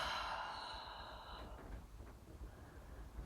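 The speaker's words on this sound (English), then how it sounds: "Nice long exhale out." A soft, slow exhale of breath during a relaxed core exercise session, faint and airy, tapering off after about a second and a half into quiet background.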